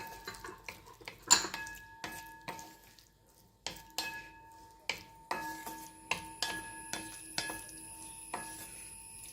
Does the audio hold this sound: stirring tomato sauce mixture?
yes